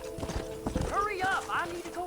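Horse hooves clip-clop at a steady trot in the video game Red Dead Redemption, with a short neigh partway through. The hoofbeats stay moderately quiet under continuous talking.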